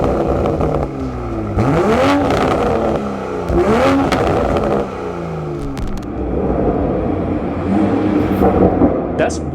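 Toyota Supra fitted with an aftermarket exhaust revs up in a few sharp rising sweeps, then settles to a steady engine drone, close and fairly loud.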